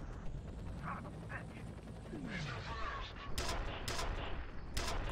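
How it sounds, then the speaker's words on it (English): Gunfire in the shooter game F.E.A.R. hits the player: a few sharp, loud shots and bursts crack over a dense, rumbling game soundscape toward the end. "Who's shooting me?"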